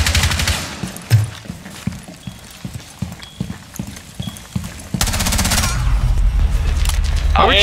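Gunfire in Rainbow Six Siege: scattered sharp shots and impacts through the first part, then a dense, loud stretch of rapid automatic fire over the last few seconds, with no talk.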